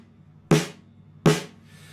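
A Pearl snare drum is struck twice with a notebook resting on its head, giving two loud, close, dry cracks whose ring dies away quickly.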